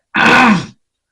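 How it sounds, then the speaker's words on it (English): A single short, close, loud cough-like throat clearing, alone with nothing around it. "every time I'm talking like this, I start coughing."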